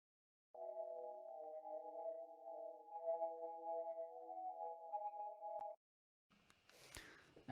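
A guitar sample run through a vocoder becomes a sustained, hollow, sonar-like tone with steady layered pitches. It holds for about five seconds, then a brief burst of noisy, scratchy texture follows.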